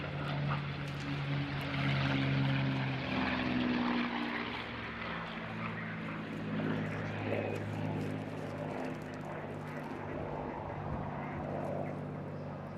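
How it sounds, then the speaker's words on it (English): Rolls-Royce Heritage Mustang P-51D propeller fighter flying at the Eastbourne airshow, a steady droning engine roar that swells and fades slightly as it passes, mid-distance and continuous throughout. "be watching Alistair Williams flying the Rolls-Royce Heritage Mustang P-51 D"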